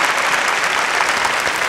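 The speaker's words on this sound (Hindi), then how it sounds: "बहुत सारी तालियां।" Dense, steady applause from an audience at a popular television dance show, loud and close, a continuous even roar of many hands clapping with no pauses.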